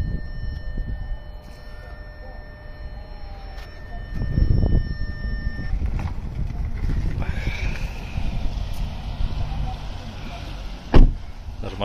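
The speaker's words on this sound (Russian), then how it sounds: "Машина проехала" A car drives past at night, a swelling whoosh of tyres and engine that rises around the middle and fades, with faint tones and a sharp knock near the end.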